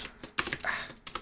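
Computer keyboard keys typed in short bursts of clicks with pauses between them, close and fairly quiet, no talking.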